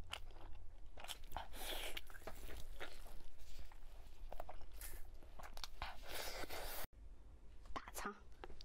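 Crunchy pork large intestine is chewed and bitten close to the mic in a Chinese-food mukbang, with repeated moist crunches and soft mouth sounds throughout.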